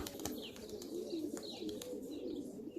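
A female gök pigeon coos softly and continuously, fairly close, with a low murmuring call and faint chirps or rustles above it.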